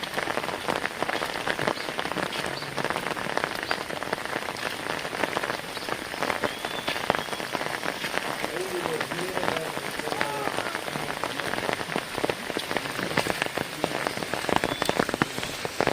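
Steady rain pours down, pattering densely on surfaces nearby with a continuous hiss and scattered heavier drops throughout.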